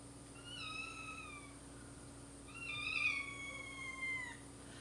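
Two drawn-out cat meows, the first fairly soft and the second louder and longer, with no talking around them.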